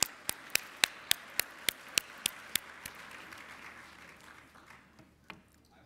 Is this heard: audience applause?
yes